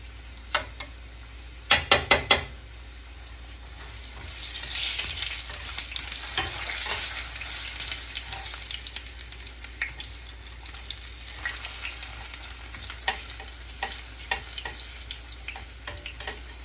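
Tomato and chili frying in a pan for a potato dish, a steady hiss and sizzle that swells after a few sharp clatters of utensils, with scattered stirring clicks and spatters, no talk.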